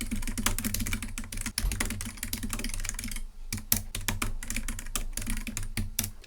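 Fast continuous typing on a computer keyboard while entering a commit message in a Git tool, with dense close key clatter, a brief pause near the middle, then more rapid keystrokes and no talking.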